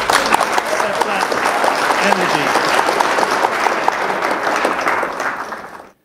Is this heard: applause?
yes